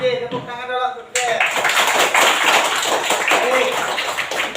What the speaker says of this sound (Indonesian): Oke, tepuk tangan dulu untuk kita.